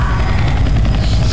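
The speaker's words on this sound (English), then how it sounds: "A chopper." A helicopter in Left 4 Dead 2 drones loudly and continuously, its dense rotor rumble filling the scene, with no talk.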